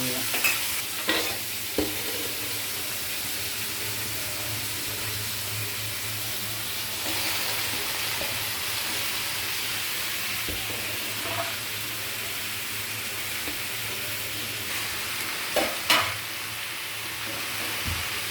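Onions and tomatoes sizzling in a pan while being stirred, a steady frying hiss broken by occasional scraping clanks of the spoon against the pan.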